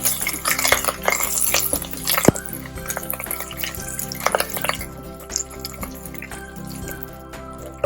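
Curry leaves splatter and crackle in hot oil in a pan while a vegan Thai eggplant curry cooks. Sizzling pops and clinks of utensils sound close, with a sharp spike early on.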